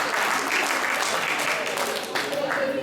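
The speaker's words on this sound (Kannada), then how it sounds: "ನಮ್ಮ ಪ್ರೇಕ್ಷಕರೆಲ್ಲ ಸ್ವಲ್ಪ ಊಟ ಮಾಡಿ ಬಂದಿಲ್ಲ ಅಂತ ಸ್ವಲ್ಪ ಜೋರ ಚಪ್ಪಾಳೆ ಹೊಡೆದ್ರೆ" An audience claps steadily at a stage event as a performer is called up, a dense wash of applause that holds the whole time, with a faint voice and tones showing through near the end.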